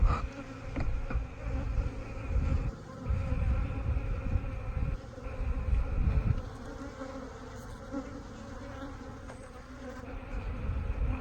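A dense, continuous buzzing of many honey bees swarming close by around a queen, droning steadily without a break.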